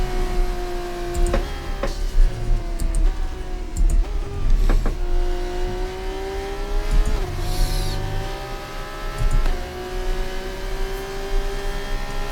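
Open-wheel F2 race car engine in the F1 24 game at Silverstone, loud and close, with repeated gear-shift revs rising and dropping in steady pitch sweeps over a constant engine drone, no talking.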